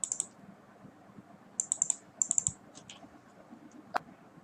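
Typing on a computer keyboard at a desk, heard as short bursts of crisp key clicks in quick runs with pauses between them, followed by a single louder key press near the end, fairly quiet and close with no talking.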